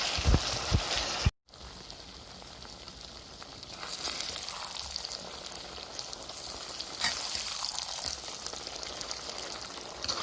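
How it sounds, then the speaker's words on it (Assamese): Chicken and potatoes fry in a pan, giving a continuous close hiss and crackle that swells slightly over time, with a brief thump and a moment of silence near the start. "মাংসখিনি প্ৰায় ভাজি হৈ গৈছে"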